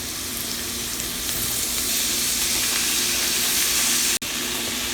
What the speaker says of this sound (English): next I'm going to add in my egg mixture now that our onions are nice and caramelized